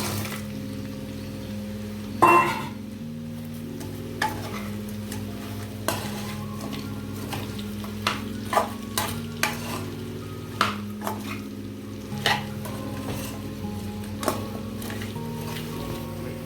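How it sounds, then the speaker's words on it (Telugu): Fried chicken pieces stirred into a coconut masala in a pan, with repeated spoon clanks and scrapes against the metal over a low sizzle and steady background music. "దీంట్లో ఫ్రై చేసి రెడీగా పెట్టుకున్న పీసెస్ని యాడ్ చేసేస్తున్నాను"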